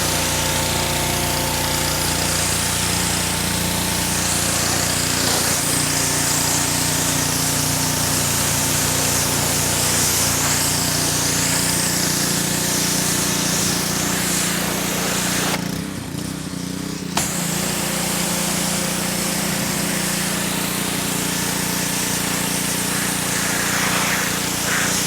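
A water spray rinses a black car, a loud continuous hissing wash with a motor drone beneath it, briefly dropping away for about a second midway before resuming.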